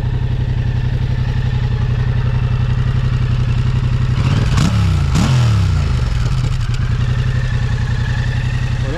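Yamaha Tracer 7 motorcycle with an Akrapovic exhaust idling steadily up close, a deep even throb with a brief blip of revs around the middle before settling back to idle.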